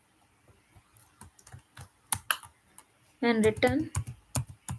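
Keystrokes typing Python code on a computer keyboard, a scattered run of sharp clicks followed by a brief burst of speech with a few more taps after.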